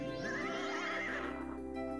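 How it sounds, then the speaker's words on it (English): A winged horse in the King's Quest II Remake gives a long, wavering whinny over a steady background tone, the call fading out after about a second and a half. "Before you now stands a magnificent winged horse."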